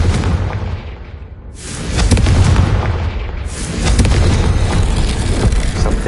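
A Confringo fire spell in Hogwarts Legacy bursts with a heavy booming blast, followed by rumbling crackle and a second strong surge of explosive roar, loud and close with no talk.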